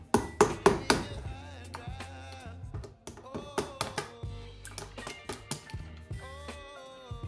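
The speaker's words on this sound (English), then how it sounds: "you can give it a few gentle taps with a hammer to make it go in." A series of light metallic taps from a hammer on a wheel valve in irregular bursts, close by, with ringing overtones and brief pauses between clusters, on a Xiaomi M365 Pro scooter's front wheel.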